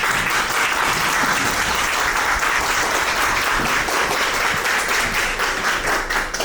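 Reporters and attendees at a Suwon FC Women press conference during the AFC Women's Champions League applaud with steady, sustained clapping from start to finish, with no talk over it.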